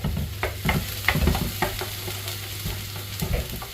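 Garlic and ginger fry and get stirred in a pan for egg fried rice. Steady sizzling runs throughout, broken by several clear scraping stirs. No one speaks.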